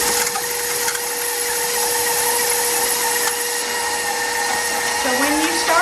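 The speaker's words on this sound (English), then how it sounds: "first we want to add our butter to the mixer. And we're going to just cream the butter" An electric stand mixer creaming butter for a buttermilk pound cake, a steady loud motor whir with a constant high whine that runs unbroken throughout, with no talk.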